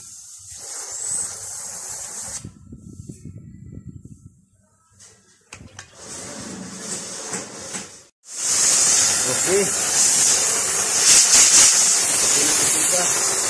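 Oxy-acetylene torch cutting through steel gives a loud rushing hiss that drops out and returns, swelling to a strong, steady roar in the second half, with a brief spoken word near the start.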